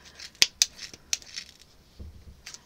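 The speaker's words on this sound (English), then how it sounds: "So we're going to go through now and just cut through the middle." Scissors snip through a yarn pom pom in a few sharp, close cuts, with quick blade clicks spaced unevenly over a couple of seconds and faint rustling of yarn between them.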